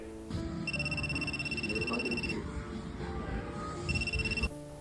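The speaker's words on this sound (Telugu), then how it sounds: "మన ఫోన్ మోగినట్లు డివైస్ మోగింది కదా" A coffee shop order pager goes off with a steady electronic ringing tone that holds for a couple of seconds, pauses, then rings again, heard at moderate distance over café background murmur.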